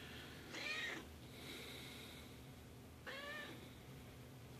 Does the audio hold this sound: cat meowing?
yes